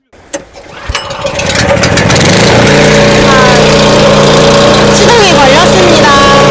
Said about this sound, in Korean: 시동이 걸렸습니다